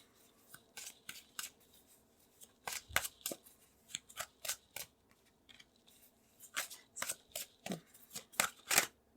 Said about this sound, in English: Sometimes I feel like certain cards are wanted, so I'm pulling them out.